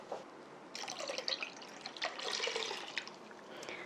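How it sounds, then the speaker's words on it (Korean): Soy sauce pours into a container of onions for pickling, a close, steady liquid trickle with small splashes and gurgles lasting a few seconds, with no talking. "간장을 부어 보겠습니다"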